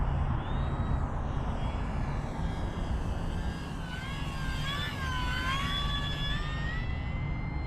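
An FMS Maule 1500mm STOL radio-controlled airplane comes in to land on its main wheels, its electric motor whining with gliding, shifting tones over a steady wash of wind and outdoor noise, with no talking.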